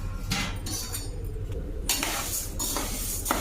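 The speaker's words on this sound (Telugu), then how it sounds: "కందిపప్పు వేయిద్దామండి రెండు గ్లాసులు తీసుకున్నాం కదా అది మొత్తం ఒకసారి వేయించేద్దాం" Toor dal (pigeon pea lentils) is dry-roasted in a pan, the lentils rattling and scraping under a utensil in several loud stirring bursts, with no voices.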